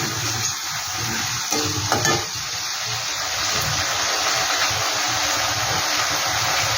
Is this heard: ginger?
yes